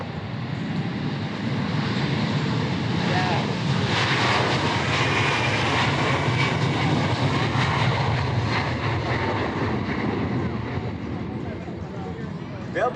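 An F-35 fighter jet roars past at an air show, a loud, steady broadband engine rush that swells and holds for the whole stretch, with crowd voices faintly mixed beneath it.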